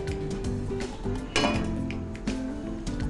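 A metal kadai handled on a kitchen stove while preparing besan burfi, giving repeated close clinks and scrapes of metal against metal, with one sharper knock partway through.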